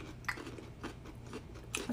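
Someone bites into a Vlasic Classic Snackums pickle and chews, giving a few soft, close crunches spread over a couple of seconds in an otherwise quiet room.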